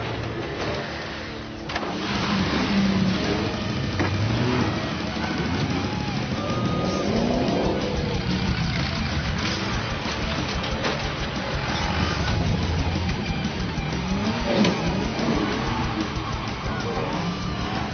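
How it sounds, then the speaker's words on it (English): Four-wheel drive racing vehicles in a city arena event, engines revving and roaring at mid distance under crowd noise and a commentator's voice. "TJM Austruck Extreme's designed to bring the four-wheel drive racing that happens out in the country right into the heart of the city."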